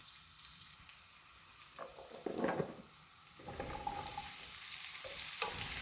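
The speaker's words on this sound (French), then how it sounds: "je vais mettre les échalotes émincées. On va les laisser dorer un petit peu" Minced shallots fry in a pan for a garlic shrimp dish with spring vegetables, a steady soft sizzle with occasional louder stirring bursts and scrapes, close and continuous without any talking.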